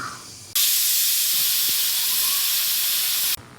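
A kitchen pressure cooker vents steam in a loud, continuous hiss that bursts on suddenly, holds steady for about three seconds, then stops sharply.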